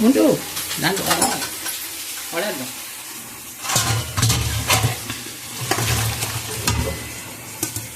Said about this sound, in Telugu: ఉడకబెట్టిన రొయ్యలు వీటిని మనం వండుతాం, ఫ్రై చేస్తాం.